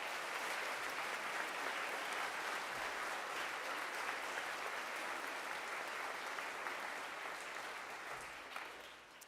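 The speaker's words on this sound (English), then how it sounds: "let's give him a round of applause" Students and staff applaud during a school chapel service at Shawnigan Lake School, a broad, sustained round of clapping from a large group that slowly fades near the end.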